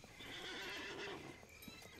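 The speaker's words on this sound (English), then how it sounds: "he's a horse" A horse in the survival video game SCUM lets out a loud, wavering whinny lasting most of two seconds, with faint hoof clip-clops underneath.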